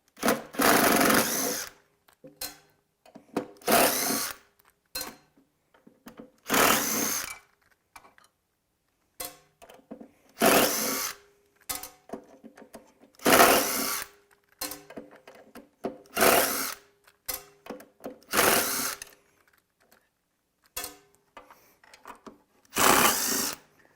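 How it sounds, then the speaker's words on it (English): An impact driver with a Torx bit backs screws out of planer blades in repeated loud bursts of rapid rattling hammering, with short pauses and small clicks between each screw. "I've got in this driver, impact driver, the same Torx that came with it, but we can do this so fast"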